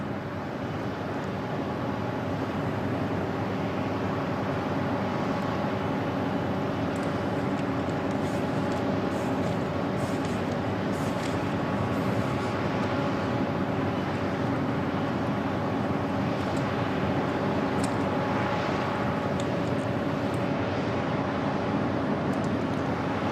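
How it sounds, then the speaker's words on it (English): At the Bahrain Air Show 2016, a HAL Tejas light combat aircraft lines up on the runway, with a steady low jet-engine drone and faint whine under constant broadband rumble for over twenty seconds. "Lining up on the runway. This is the newest light combat aircraft from India, the Tejas."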